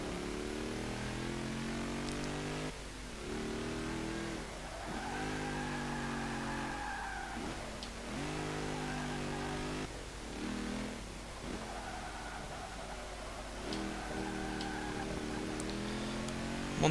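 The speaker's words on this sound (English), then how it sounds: "Whoa! Yeah, this is a bit of a handful, this car." A 1939 Maserati 8CTF race car in Forza 5 revs hard through repeated rising and falling engine pulls, a loud continuous harmonic whine with brief dips between gear shifts and occasional tire squeal.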